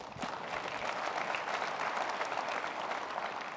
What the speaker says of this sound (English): Come on, you can clap about that.